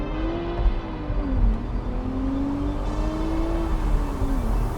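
BMW Z4 M40i with its B58 engine accelerating at high speed: a steady engine drone rising gradually in pitch, with a dip around one and a half seconds, under heavy wind and road roar inside the cabin.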